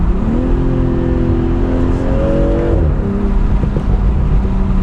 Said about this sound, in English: Listen to the downshifts on this car